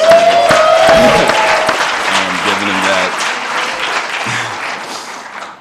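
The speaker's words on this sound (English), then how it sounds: "I think he deserves a round of applause" An audience at a student symposium on race applauds loudly, with clapping strongest at the start and slowly fading, while voices speak over it.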